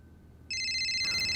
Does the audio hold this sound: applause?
no